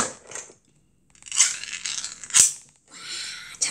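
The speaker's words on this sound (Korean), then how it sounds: "참치 까는 소리예요" A can of tuna being opened close by: a scraping, tearing pull of the lid in short bursts with sharp metallic clicks and pauses between them.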